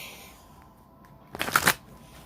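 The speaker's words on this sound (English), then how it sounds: "Let me shuffle these a couple more times." A deck of cards being shuffled once more before a reading, a brief crisp riffle burst after quiet room tone.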